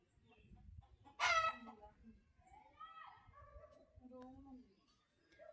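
Chickens at a temple give clucking calls, with one sharp, loud squawk near the start, followed by softer, harmonic cackles and voices murmuring nearby.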